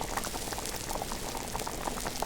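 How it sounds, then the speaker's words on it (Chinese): Water rolls at a steady, vigorous boil in a pot of pork ribs cooked with scallion, ginger and cooking wine, a dense continuous bubbling and popping close by with no voices. "好，水开了，把它捞出来。"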